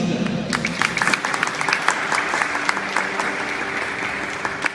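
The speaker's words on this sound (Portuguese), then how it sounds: "aplaudir essa palavra linda" A church congregation breaks into sustained applause, many hands clapping densely and evenly for the full stretch, fairly loud and close, with a faint murmur of voices beneath.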